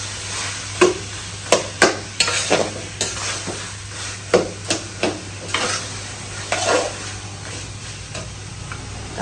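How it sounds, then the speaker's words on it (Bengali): Coriander powder is stirred into a frying pan with fish-head lentils and potatoes, giving a run of sharp, regular spatula scrapes and taps over a steady low sizzle, close and clear with no talking. "এখন ধনিয়ার গুঁড়াটা দিয়ে দিব"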